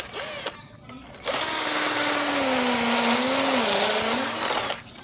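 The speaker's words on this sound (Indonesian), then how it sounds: "itu dia tadi tes performa bor cordless Brassit dari Shokkin ya, 21 volt" A SOKIN 21V brushed cordless drill bores into cast concrete: a loud, strained motor whine that ramps up, holds steady for several seconds with slight pitch wobble, then cuts off, with brief quieter running before.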